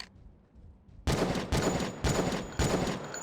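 Gunshots in the Jurassic Park Revolution mod video game: after a quiet lead-in, four loud, sharp shots ring out at a steady half-second pace, each with a brief ringing tail.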